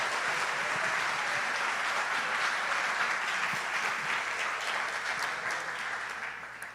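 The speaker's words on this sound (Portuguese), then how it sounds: "merecem uma salva de palmas nesse momento aqui" A church congregation applauds in sustained, even clapping, a dense wash of many hands at steady volume that fades slightly toward the end, with no speech over it.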